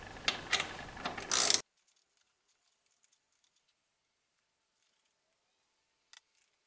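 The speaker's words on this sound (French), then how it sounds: "vous pouvez desserrer vos 4 écrous de culasse afin de pouvoir démonter le cylindre piston culasse" A ratchet wrench loosens cylinder head nuts on a 70cc scooter engine, giving a short burst of close, rapid metallic clicking that stops abruptly, then near silence broken by one faint click.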